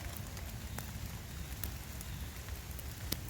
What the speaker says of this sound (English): still raining a little bit.